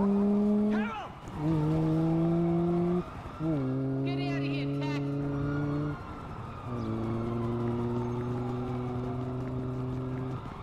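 Very fast car in GTA 5 roaring through a series of rising gear runs, the engine note climbing and dropping at each shift, loud and close, with a voice talking over it.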